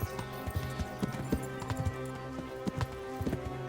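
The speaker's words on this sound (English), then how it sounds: "Sir Hans Capon is on the horse in front of us" Horse hooves clip-clop steadily in Kingdom Come: Deliverance, a rider ahead on horseback during the ride to Skalitz, with a brief whinny and game music layered beneath the hoofbeats.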